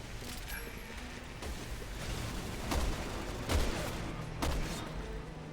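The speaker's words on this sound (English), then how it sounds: "That's a sniper." Gunfire in the video game Resident Evil 6, a few separate sharp cracks spaced about a second apart over a steady murmur of game ambience, moderately loud and with no talk over them.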